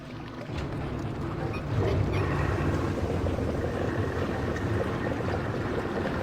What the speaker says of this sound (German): So, und jetzt erstmal das Wasser rauslassen,